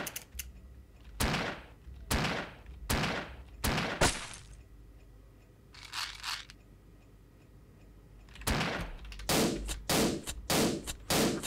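Sharp gunshots from the indie video game Shotgun, a string of single cracks spaced about a second apart, a pause, then a faster burst of shots, loud and clear with no talk over them.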